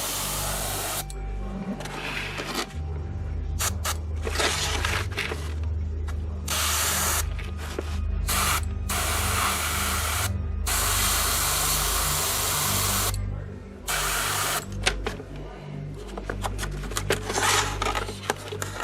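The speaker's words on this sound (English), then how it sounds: "And just go in there with the airbrush." An airbrush sprays paint onto an Ork Flying Coffin bomber model in loud, hissing bursts separated by short pauses, while a compressor hums low and steady underneath.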